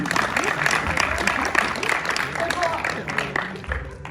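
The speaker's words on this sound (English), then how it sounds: "so a round of applause to you!" An audience applauds at a competition finale, steady dense clapping filling the whole stretch with crowd noise and voices mixed underneath.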